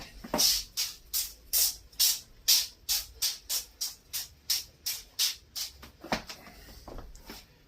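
Oil spray lightly misted over the top of a homemade venison pie in its tin, about sixteen short, evenly spaced hissing spritzes in a steady rhythm, close and clear with no talking.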